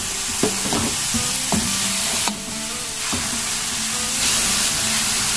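Taiwan beans stir-fry in a hot pan, giving a steady close sizzling hiss broken by a few sharp clinks and scrapes of the spatula against the metal.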